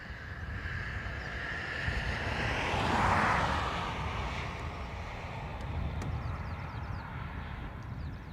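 An Etihad airliner's engine spools up after pushback at Dublin Airport, a broad rising roar that swells to a peak midway and then settles into a steady hum, moderately distant under wind noise.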